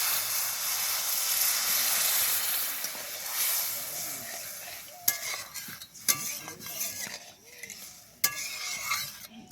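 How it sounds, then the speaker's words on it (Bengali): Water goes into a hot, well-fried spice paste for a fish roe curry, setting off a hissing sizzle that fades, followed by sharp scrapes and clinks of stirring in the pot, quiet overall. "এবার দিয়ে দেবো পরিমাণ মতো জল।"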